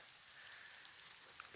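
Rain falls steadily on a river pool at Bear River, a faint, even hiss of drops hitting the water with a few brighter patters standing out, continuous and fairly distant with no voices.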